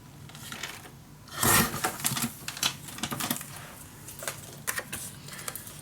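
Paper being cut for a Christmas December Daily mini scrapbook album: a loud crisp snip near the start, followed by a run of small irregular clicks and rustles of handling paper.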